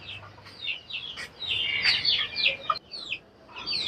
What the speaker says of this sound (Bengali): এখানে আমার কয়েকটা মোরগ মুরগি